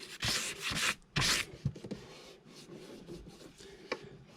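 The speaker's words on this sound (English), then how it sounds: "you come back with your finer sandpaper. I think this is a 280A sandpaper. And you can do the same thing with it." A boat hull repair is sanded by hand with fine 280 grit sandpaper: quiet, close scratchy rubbing strokes, a few longer passes and then lighter short scrapes.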